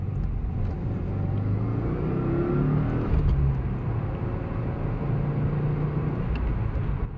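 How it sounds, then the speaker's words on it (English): A turbocharged car accelerates into boost, its engine building a steady, loud rumble and rising whir from inside the cabin, continuous with no talk. "I still just really enjoy going into boost, getting into boost in this car."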